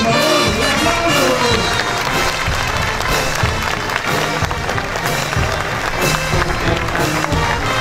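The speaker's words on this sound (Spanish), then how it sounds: "Un aplauso, por favor. Un aplauso." Church congregation applauding and cheering at an Easter celebration of the risen Jesus at El Calvario temple, a loud dense crowd sound over music, sustained throughout.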